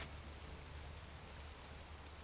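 Steady rain pattering on freshly replanted plants in a garden plot, an even continuous hiss with no voices.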